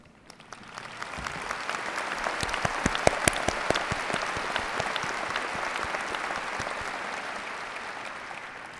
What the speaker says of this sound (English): we will like to applaud you a second time